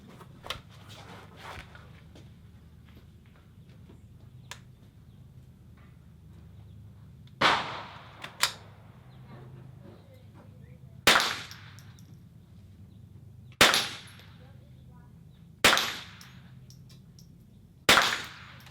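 .22 rimfire rifle shots at an NRL22 shooting match outdoors, about six sharp cracks spaced a few seconds apart over quiet range ambience.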